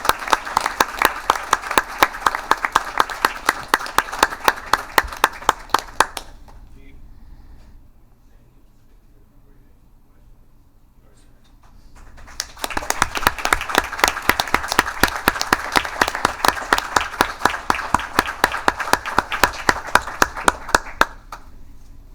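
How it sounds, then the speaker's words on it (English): Rhythmic, evenly paced clapping from a council meeting audience, loud and close, pausing for several seconds of near silence in the middle before resuming just as strongly and continuing to the end. "This is where you get the clap."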